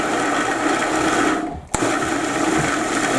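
A kitchen blender grinds chickpeas for hummus with a loud, steady whirring roar that briefly dips and stops for a moment before resuming at full strength.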